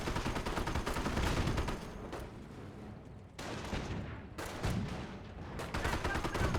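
Dense, sustained bursts of squad gunfire and booming impacts in the World War II strategy game Company of Heroes, loud and continuous with brief lulls and no talking.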